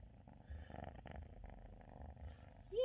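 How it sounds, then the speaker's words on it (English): Cat purring softly in a quiet room, a low steady rumble in close-up with a brief louder rustle at the end. "She's purring a lot right now."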